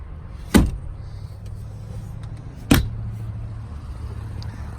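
Power liftgate of a 2019 Honda Passport EX-L closing: a quiet motor hum broken by two sharp solid thuds a couple of seconds apart, close by, with no speech.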